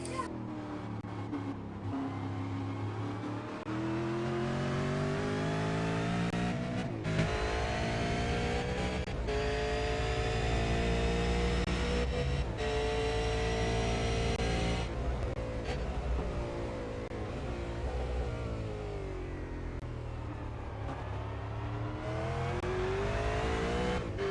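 V8 race cars in a racing video game scream through a lap, one engine revving high and dropping through gear changes, with other cars' engines layered around it, loud and continuous.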